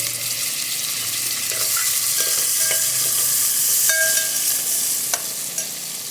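Onions, tomatoes and green chilies sizzle and fry in a pan, a continuous hiss broken by a few light scrapes and taps of stirring, close and fairly loud with no voices.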